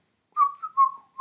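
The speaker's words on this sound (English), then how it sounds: "there's some kind of whistle that she does, and then the Mockingjays copy her whistle" A short whistled signal from a movie, the call that mockingjays copy: a clear rising-and-falling series of four bright notes, close and alone in silence.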